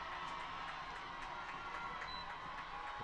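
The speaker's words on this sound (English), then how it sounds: "you can hear the Freedom crowd on the other side" Fans at a Freedom high school football game make a steady, broad roar of crowd noise, distant and continuous, with scattered shouts rising from across the stands.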